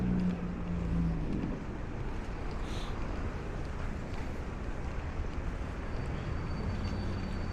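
Strong gusting wind buffets the microphone on a New York City street, a steady loud roar of rumbling air with faint traffic underneath and no voices.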